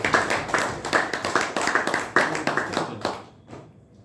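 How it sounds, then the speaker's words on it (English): A small room of Toastmasters meeting attendees gives a round of applause, dense close clapping that runs steadily for about three seconds and then thins out to a few last claps. "let's have a nice round of applause."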